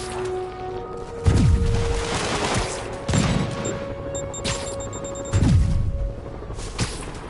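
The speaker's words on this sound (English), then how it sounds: "All units, officers are taking sniper fire." Sniper fire in the Spider-Man video game hits in three heavy bursts, each a loud crack with a booming tail, spaced a couple of seconds apart over steady ambient game sound.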